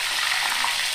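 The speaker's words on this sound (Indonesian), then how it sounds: "Ini tahunya kloter kedua aku goreng." Tofu pieces frying in hot oil, a second batch in a home kitchen, give off a steady, dense sizzle that stays even and close for the whole second, with no voices.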